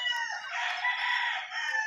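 Farm roosters being readied for a livestock expo crow in a loud, sustained, near call lasting nearly two seconds, with no talk over it.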